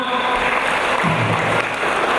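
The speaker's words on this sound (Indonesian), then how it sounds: "Tepuk tangan buat mereka berdua." Crowd applause at a Balinese community gathering with joged bumbung dance and a handover of office, a steady, broad wash of clapping lasting about two seconds, with no voices over it.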